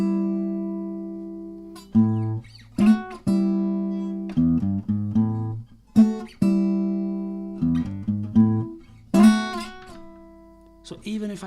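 Single picked notes on an electric blues guitar ring cleanly one after another, each decaying with no other strings sounding, in a slow phrase of about a dozen plucks, close and loud, with no talk.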